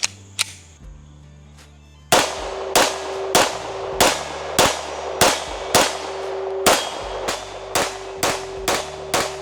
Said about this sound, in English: So let's put a few rounds down range.